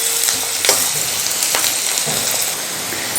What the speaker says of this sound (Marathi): कांद्याला छानसा गुलाबी रंग येईपर्यंत हा कांदा आपल्याला भाजून घ्यायचा आहे